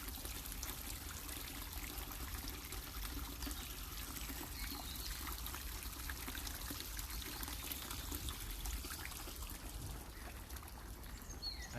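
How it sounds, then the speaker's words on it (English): Water flowing steadily beneath a slippery footbridge in the Winterbourne gardens, a continuous close rushing and trickling wash that stays even throughout, with no voices. "Can you hear the water down there? The sound of the water."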